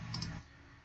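A computer mouse gives a quick pair of soft, close clicks, then quiet.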